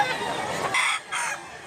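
A nearby rooster gives a loud crow that breaks off and then picks up again in a short second phrase, while someone speaks faintly in the background among chickens at a market in Cebu.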